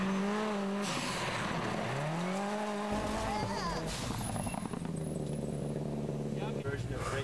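A rally car on a dirt road brakes, turns in and downshifts, its engine note sweeping down and climbing again through gear changes with some tire scrub, while excited voices shout and talk over it.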